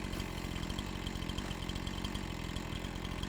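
A chainsaw in the farming video game Farming Simulator 25 runs steadily while cutting small trees, its continuous mid-pitched motor drone close and loud with a fast rattling pulse and no pauses.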